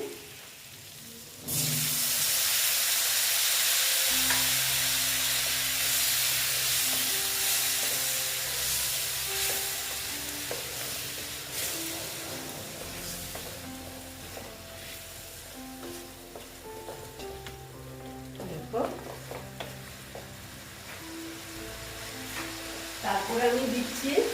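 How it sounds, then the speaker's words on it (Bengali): Chopped banana flower frying and stirred in a pan as water is splashed in, a loud burst of hissing sizzle that slowly settles into bubbling with spoon scrapes and a voice talking under it. "নেড়ে চেড়ে নিচ্ছে একটু জল অ্যাড করে দিচ্ছি"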